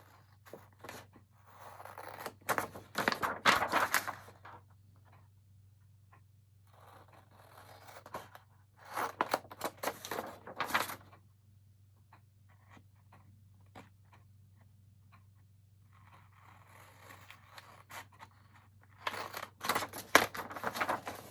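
Scissors cutting scrapbook paper for a craft explosion box, in several separate bursts of close, snipping and rustling cuts with quiet pauses between.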